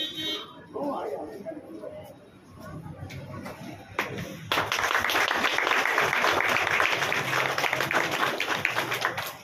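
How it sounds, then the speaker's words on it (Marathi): Applause breaks out at a bakery association founding ceremony, starting as scattered claps under background voices and then swelling into loud, sustained clapping for the second half. "जोरदार टाळ्या."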